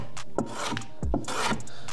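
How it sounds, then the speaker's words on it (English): A rasp or file scrapes along the edge of a piece of timber to chamfer it for a carpenter's fence, a few close, rough rubbing strokes in quick succession. "all I'm doing there is just taking a nice chamfer"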